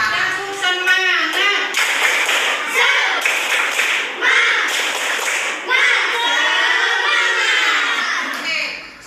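A classroom of children performs a rhythmic clapping cheer, quick patterned claps in bursts over loud, excited young voices chanting along nearby.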